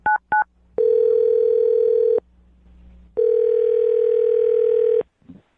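Two quick beeps from a telephone give way to two long, steady electronic tones separated by a short pause as a phone number is being called.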